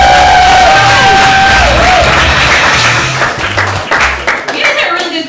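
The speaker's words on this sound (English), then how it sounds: "Please put your hands together for Miss Carrie Callahan." A comedy club audience in Chicago applauds and cheers loudly, dense clapping with whoops that swell and then begin to thin out over a few seconds.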